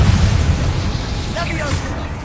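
A Confringo blasting spell explodes in Hogwarts Legacy, a deep, loud rumbling boom that rolls steadily through the whole moment, with a brief higher-pitched whistling streak near the end.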